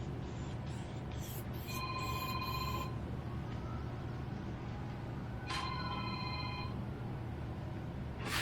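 Telephone ringing in two bursts of shrill electronic trilling, each about a second long and separated by a pause, heard over a constant loud mechanical hum in the background.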